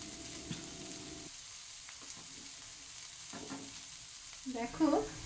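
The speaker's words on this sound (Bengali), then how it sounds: "এবার এটাকে ভালো করে নেড়ে চেড়ে মিশিয়ে দিচ্ছি।" Banana stem mixed with salt, ginger juice and two whole green chillies stirred in a pan, soft scraping and shuffling under low kitchen hum, ending in a brief louder clatter near the close.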